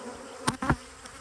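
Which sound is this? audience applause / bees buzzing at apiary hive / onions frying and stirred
bees buzzing at apiary hive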